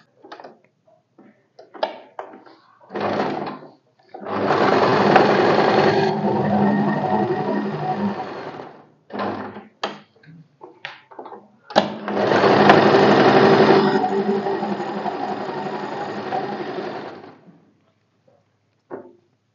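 A sewing machine stitches a cross shoulder seam on a katori blouse in two long loud runs of rapid mechanical whirring, separated by short handling clicks and pauses.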